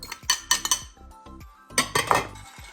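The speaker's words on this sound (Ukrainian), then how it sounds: "Розмішуємо маринад, щоб розійшовся цукор і сіль." A spoon stirring a vinegar, salt and sugar marinade for pickled peppers, with a series of bright clinks and taps against the container in quick clusters, close and fairly quiet.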